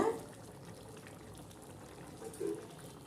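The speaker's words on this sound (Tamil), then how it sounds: "அரிசி போட்டு கொதிச்சிட்ருக்கையில்" Rice boiling in a pot for biryani gives a faint, steady low bubbling, quiet and close, with a slightly stronger burst of bubbles near the end and no voices.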